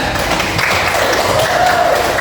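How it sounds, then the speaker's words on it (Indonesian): A classroom of children claps together in a steady, continuous burst of applause, fairly loud and close. "Tepuk tangan ya."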